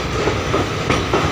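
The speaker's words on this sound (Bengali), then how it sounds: "পাহাড়ের বা পর্বতের ভেতর সুড়ঙ্গ পথ দিয়ে ট্রেনটা এগিয়ে চলেছে" A train moving through a tunnel inside a mountain on the route to Haflong in Assam, a close, loud rolling rumble with rhythmic clickety-clack wheel beats repeating about every third of a second, with no voices.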